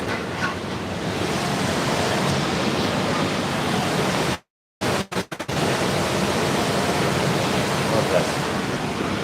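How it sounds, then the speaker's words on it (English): Steady, loud rush of churning water from a ship's wake, like a broad wash of surf, fills the clip, briefly cutting out for a moment near the middle before resuming. "one of those great spots on a ship to hear the sound from the wake"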